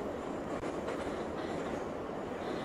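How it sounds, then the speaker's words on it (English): Train rolling along rails inside a scary video game, a steady low rumble with faint clickety-clack and a light wheel squeal, continuous and alone with no talking. "And now we're stuck on a train."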